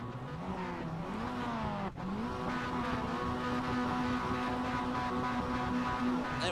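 A pack of Mazda MX-5 race cars revs at the start of a race at VIR. Steady engine drone holds, dips briefly, then climbs into loud, sustained, overlapping engine whine.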